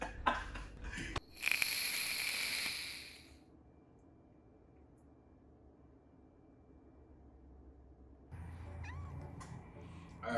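A cat meows close by, with a couple of short cries and then a long, loud, drawn-out yowl, followed by quiet room noise and then a rise in background hum.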